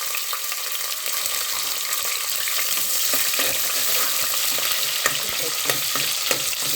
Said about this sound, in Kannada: ಈಗ ನಾನು 2 ಈರುಳ್ಳಿ, ಖಾರಕ್ಕೆ ಎಷ್ಟು ಬೇಕೋ ಅಷ್ಟು ಹಸಿಮೆಣಸಿನ್ಕಾಯಿ ನಾನಿಲ್ಲಿ ಹಾಕ್ಕೊಳ್ತಾ ಇದ್ದೀನಿ.